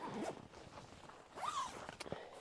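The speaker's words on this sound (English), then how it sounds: "You got the 2 zippers," A zipper being pulled open on an REI Co-op backpacking tent: quiet, close ripping zips, a short one at the start and a longer rising pull in the middle, with a few soft fabric rustles and a tick.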